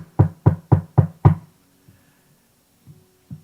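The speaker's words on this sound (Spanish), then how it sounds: "oye que alguien toca la puerta" Knocking on a door: five firm, evenly spaced raps in quick succession, close and loud, followed by quiet with a few faint soft thumps.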